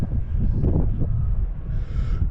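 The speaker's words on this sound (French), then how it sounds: "Il y a un tout petit vent là qui se lève" A light breeze rumbles against the microphone in soft, uneven gusts, a low steady whoosh with no voices.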